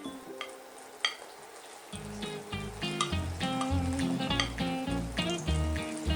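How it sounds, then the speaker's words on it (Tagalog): Mussel spring rolls (lumpia) deep frying in hot oil, a steady crackling sizzle that swells after a quieter start, with low clattering knocks of a pan or utensils beneath it throughout. "nakapag-init na tayo ng oil, ipiprito na natin yung lumpia"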